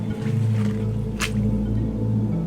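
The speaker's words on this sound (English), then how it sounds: "Randy has to basically wade through this water to install the irrigation system on this side." Feet wade through rainwater flooding a greenhouse, making wet squishing and sloshing steps close by over a low steady hum, with one sharper splash midway.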